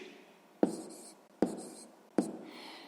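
A pen writes down the answer to a math problem, making three short, close scratchy strokes spaced under a second apart, each fading quickly.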